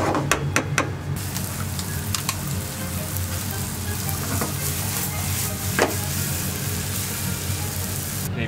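Onions sizzle steadily in a pan of garlic-infused oil, with a few sharp clicks and clatters at the start, then a continuous, even frying hiss with occasional soft knocks throughout.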